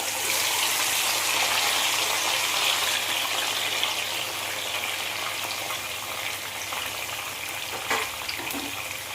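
Chicken pieces fry in a pan over medium heat for Mughlai chicken, a continuous bright sizzle and crackle of hot oil that stays close and even, with a few sharper pops and no talking.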